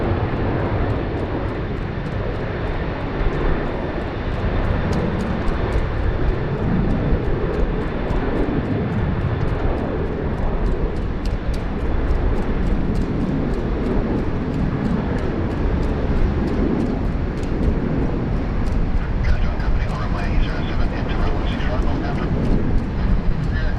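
A passenger airplane takes off from Sydney Airport bound for Launceston, a broad steady jet roar sustained throughout, fairly loud and dense, with a voice talking over it at times.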